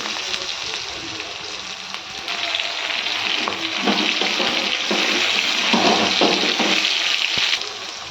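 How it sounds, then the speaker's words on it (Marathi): Green chillies sautéing in hot oil for an egg curry make a steady, close sizzle with bursts of crackling pops that grow louder midway and hold until near the end. "हिरव्या मिरच्या छान असं परतून घेते"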